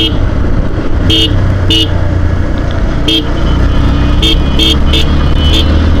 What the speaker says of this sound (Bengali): আপনি যদি হর্ন না দেন আপনার কেউ সাইড দিবে না।